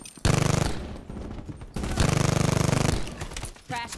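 Rapid-fire gun in Black Ops 4 Gun Game, two loud close bursts of fast automatic shots with a short gap between, no talking over them.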